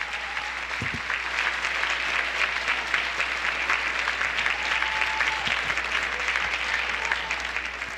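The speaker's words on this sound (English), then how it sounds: "Give them a round of applause" Sustained audience applause fills the hall after a school orchestra's performance at a preview concert, a steady dense wash of many hands clapping with no talk over it.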